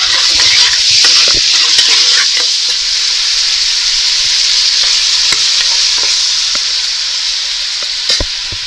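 Mutton fat frying in a pan while being stirred, a steady loud sizzle running throughout with scattered scraping stir sounds, no talk.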